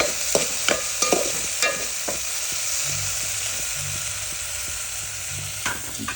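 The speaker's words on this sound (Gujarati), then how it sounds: "તો અમે હવે નાખી દીધા દૂધ જે ફ્રાય થઈ ગયું" Milk fries in a hot pan while a spoon stirs it, a steady close sizzle with scraping stir strokes and clinks that are loudest at the start, with no one speaking.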